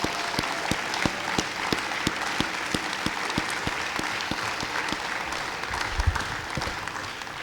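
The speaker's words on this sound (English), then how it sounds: "let's give them all a great round of applause" Sparse, rhythmic clapping at a Hall of Champions ceremony honoring college athletes, individual claps sharp and evenly spaced over a faint room backdrop, with a soft murmur near the end.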